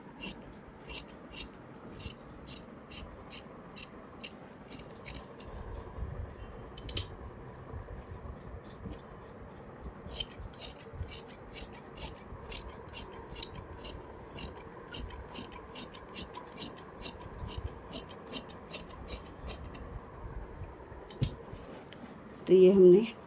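Scissors cut through suit fabric panels, making quiet rhythmic snips in quick runs separated by short pauses. Soft rustling of the cloth sits underneath.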